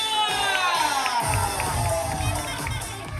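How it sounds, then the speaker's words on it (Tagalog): Crowd at a 70th birthday gathering bursting into clapping and shouting on cue, a loud dense roar of cheers and applause from many people nearby. "Palakpakan na may kasama, sigawan!"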